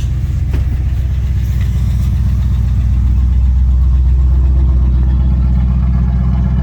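A 1964 Buick Riviera engine idles steadily and loudly up close, a low even rumble with a faint click near the start.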